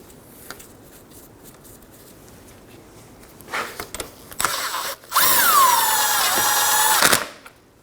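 Power drill driving the bolts on a Ford Edge 2.0L dual radiator and condenser fan assembly, with a few short bursts followed by one long, loud, steady whine with a sliding pitch, close up.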